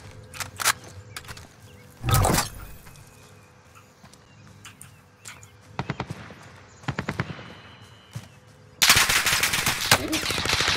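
Gunfire in Call of Duty Warzone in Verdansk: sharp, scattered shots and short automatic bursts, some close and loud, others quieter, ending in a dense, sustained burst of fire.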